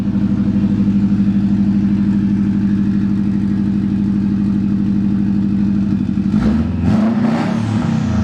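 A 2014 Subaru STI fitted with a Cobb high-flow catted downpipe rumbles steadily at close range, loud and continuous, then gives a short blip of revs near the end.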